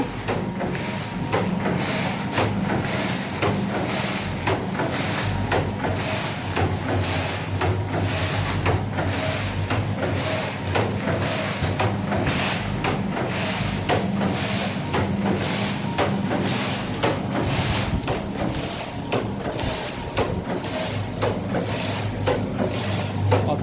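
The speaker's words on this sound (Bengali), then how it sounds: "আমাদের পাঁচফোড়ন মেশিন চলছে" A panch phoron spice-mix production machine runs continuously, giving a loud, even mechanical whir with a fast, regular clatter that carries on unchanged throughout, with no talking.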